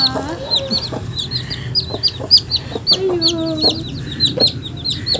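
Backyard hens on a terrace garden cluck close by while newly hatched chicks peep in rapid, high chirps throughout. The sound is busy and overlapping.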